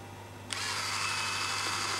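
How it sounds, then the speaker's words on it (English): An electric shaver powered from a 3-volt supply switches on with a click and then buzzes steadily, a close, continuous motor drone with a thin high whine that holds level to the end. "And that's running off a 3-volt power supply."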